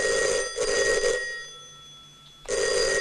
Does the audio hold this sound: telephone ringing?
yes